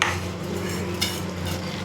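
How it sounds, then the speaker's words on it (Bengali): Bora fritters frying in oil in a pan, a close steady sizzle with a few sharper crackles and light scraping as they are stirred. "এখন তো বড়াটা ভাজছি"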